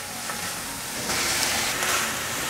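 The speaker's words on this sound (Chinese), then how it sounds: "快速翻炒。" Shredded carrot, potato and cucumber stir-fry in a pan with mushrooms, making a soft, continuous sizzle broken by faint stirring swishes.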